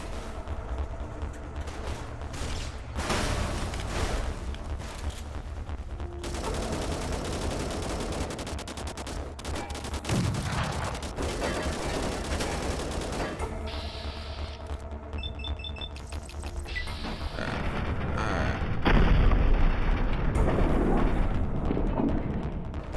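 A tank-mounted turret in Fallout: New Vegas keeps up rapid gunfire, dense bursts of shots with heavier explosions mixed in, loud and continuous across the whole stretch.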